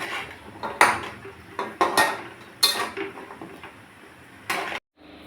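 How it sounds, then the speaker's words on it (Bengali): A metal karahi of lalmohan balls frying in oil is shaken, giving several sharp, close clanks and scrapes in irregular bursts with quiet gaps between them. There is no talking. "আর কড়াইটা এভাবে একটু নাড়াচাড়া করে দিলে সমস্ত লাড়ুগুলোতে তেল ঢুকে"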